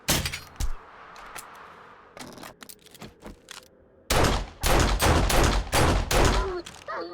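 Rapid bursts of gunfire in 7 Days to Die, aimed at a direwolf, start as scattered shots and then swell into a loud, dense volley of repeated blasts.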